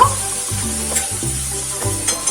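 Chickpeas and boiled potatoes are stirred through spices in a pan, giving a steady sizzle with repeated scraping strokes of a spoon roughly every half second, close and continuous with no talking.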